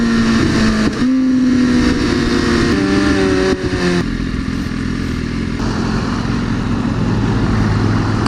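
A McLaren and a Lamborghini sports car accelerate, their engines revving in a loud, continuous roar that shifts in pitch as they drive away, with no talking.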